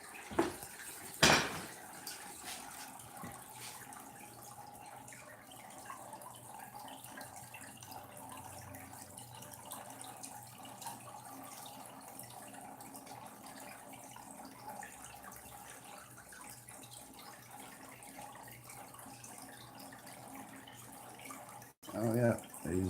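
An item is dipped and swished in water to rinse grease off, a steady low splashing wash running throughout, with a sharper clatter near the start and again at the end.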